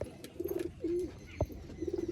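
Giribaz pigeons in a loft give low rolling coos in short rhythmic bursts near the start and again at the end, a drawn-out coo between them and a sharp knock just before the last burst, close by with no talking.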